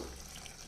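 Water poured steadily into a pan of chicken pulao, a continuous splashing pour with no talk over it.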